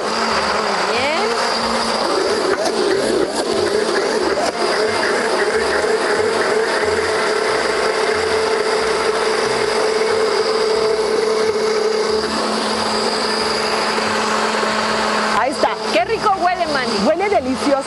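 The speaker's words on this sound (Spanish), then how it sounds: "Vamos a licuar perfectamente." A blender whirs loudly and continuously while blending green salsa for tripe tacos, a steady close motor drone that shifts pitch as it runs, then stops near the end with brief clattering.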